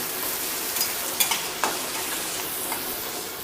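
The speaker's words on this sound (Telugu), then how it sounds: "ఈ ఉల్లిపాయ ముక్కలు తొందరగా మగ్గడానికి కొంచెం సాల్ట్ వేసుకోండి, మనకి తొందరగా మగ్గిపోతాయి" Onions frying with salt in a pan, a steady broadband sizzle throughout with a few sharp clicks and scrapes of stirring, close and alone without any voices.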